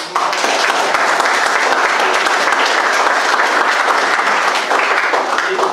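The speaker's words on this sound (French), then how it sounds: "je vous demande de les applaudir encore une fois." A large audience at a coding bootcamp demo day in Mauritius applauds, a loud, dense and sustained burst of clapping that holds steady throughout without letting up.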